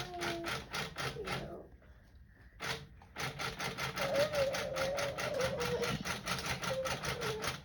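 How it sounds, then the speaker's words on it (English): A sewing machine basting across a quilt top, running in rapid, even stitching bursts with a short pause, then resuming steadily up close, with faint quiet voice underneath. "I'm just basting and I'm just guiding my machine across, all the way across"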